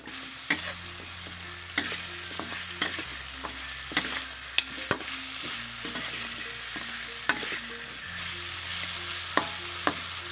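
Pork bones stir-fry in a pan, seasoned with oyster sauce. Steady sizzling runs under repeated sharp scrapes and clacks of a spatula against the pan, several per few seconds, with no talking.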